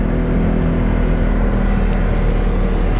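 Steady engine drone and road rumble inside a 2024 Polaris Xpedition XP5 Northstar side-by-side at relaxed cruising speed, a constant low hum with no changes in pace.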